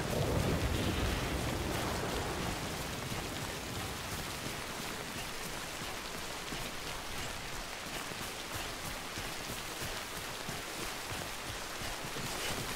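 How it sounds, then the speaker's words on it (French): Steady rain and thunder in the video game Death Stranding, with a loud low rumble near the start fading into a constant wash of rainfall that continues alone. "Il pleut tout le temps."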